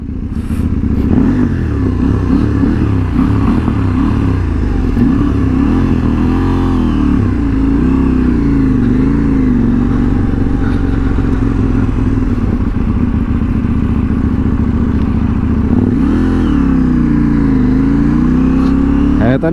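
A KTM 790 motorcycle engine drones loudly and steadily while riding, its pitch rising and dipping with throttle changes, with heavy wind rumble throughout.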